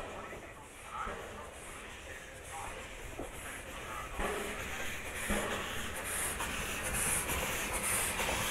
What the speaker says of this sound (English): I can hear the train coming.